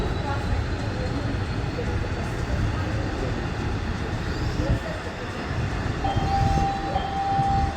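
A Washington DC Metrorail train rumbles steadily with a loud, continuous roar, and a high metallic squeal rises near the end.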